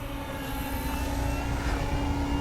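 An Avios Spitfire RC model warbird airplane drones steadily overhead during a gear pass, its engine a continuous even hum with a bright whine.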